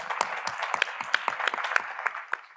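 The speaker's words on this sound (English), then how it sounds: "can I ask an extra round of applause" A panel audience applauds, many hands clapping in a dense, close, steady burst that holds throughout without letting up.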